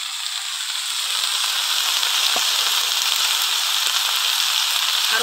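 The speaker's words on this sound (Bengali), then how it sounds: "ভেজে রাখা চিংড়ি মাছগুলো দিয়ে দেবো।" Fried prawns tossed into a pan of Malabar spinach, a loud steady sizzling hiss that holds evenly throughout, with a few faint clicks from the pan beneath it.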